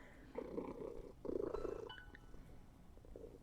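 Pet cat purring close by in two rumbling bursts, with a faint quieter stretch between and a brief soft noise at the end; no talking.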